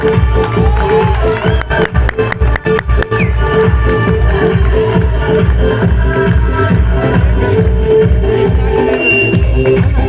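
An audience claps loudly at a flower-garlanding ceremony during a pigeon-flying event, with dense rapid claps in the first few seconds over loud, continuous music that carries on steadily afterward.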